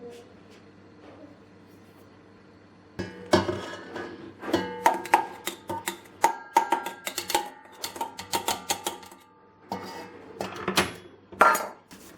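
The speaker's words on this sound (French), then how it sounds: "je vais mélanger pour commencer la farine et la levure dans un saladier" Flour and yeast are mixed in a salad bowl for cocoa-almond snail biscuits: a utensil scrapes and clinks against the bowl in quick, irregular strokes, close by, after a near-silent start.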